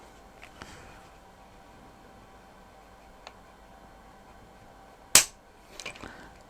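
A KelTec CP33 pistol's trigger is pulled against a trigger pull gauge, giving one sharp, loud mechanical snap of the releasing trigger, followed by a few fainter clicks, with no talking over it.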